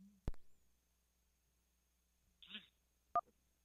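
A phone signal picks up an incoming call on a live talk show: a sharp click, a brief soft tone burst, then a short two-note electronic beep, sparse against near silence.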